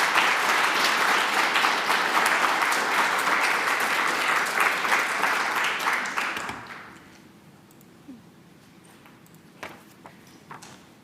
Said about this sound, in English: Let's give another round of applause to Samantha